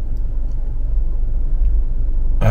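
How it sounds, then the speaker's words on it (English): Low, steady engine rumble of a car idling while parked out front of a parking lot, continuous and fairly loud throughout, with a brief brighter burst of noise at the very end. "I'm parked out front waiting to go in the parking lot and park my car"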